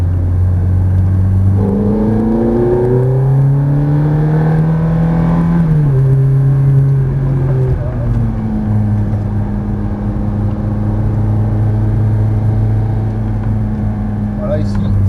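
A white Ferrari F430 at Saint Dié des Vosges, its engine revving up and shifting through gears as it accelerates through corners, loud and close from inside the car, with someone talking over it.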